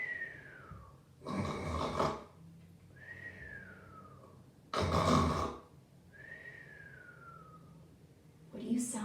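A voice imitates snoring: three cycles of a rough, noisy inhale, each followed by a whistling exhale that slides downward.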